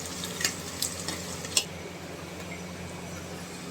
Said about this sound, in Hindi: अजवाइन और राई, उसी के अंदर मैंने इस भिंडी को छोंका है।